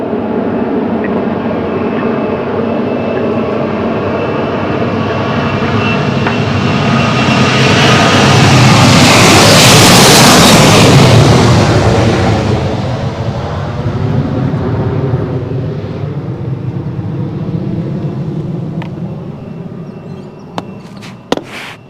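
A Boeing 737 jet airliner departs Princess Juliana Airport on St. Maarten, its engine roar swelling from a steady rush to a loud, broad peak near the middle before fading into a distant drone.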